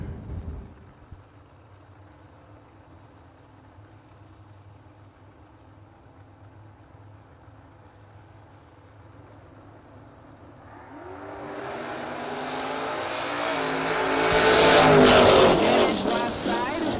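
Drag racing cars at a no-box open event, one a third-generation Camaro, idle faintly in the distance before engines build into a loud rising roar near the end.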